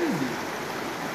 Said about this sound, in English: I have legitimately never seen, like, a spring that spits out this much water.